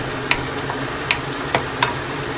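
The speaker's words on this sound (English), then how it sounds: "chop onion and put in the hot oil and make it brown" Chopped onion frying in hot oil for a spicy masala fish dish, a steady sizzle with a few sharp crackles and stirring scrapes spaced across a couple of seconds.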